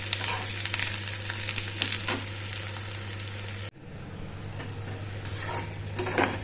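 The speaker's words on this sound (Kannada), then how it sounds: "ಕುದೀತಾ ಇದೆ." Tamarind juice cooking in a pan for tamarind rice, a steady bubbling sizzle with occasional stirring scrapes that continues after a brief break.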